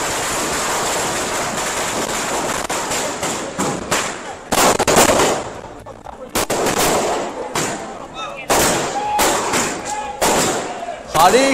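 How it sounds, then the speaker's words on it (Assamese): Rows of firecrackers bursting at the BJP's main state office in Vasistha, Guwahati, during an election result celebration: dense crackling volleys and sharp bangs in repeated bursts, with brief lulls between them. "শাৰী শাৰী ফটকা এয়া ভাৰতীয় জনতা পাৰ্টীৰ গুৱাহাটীৰ বশিষ্ঠস্থিত মুখ্য কাৰ্যালয়ত।"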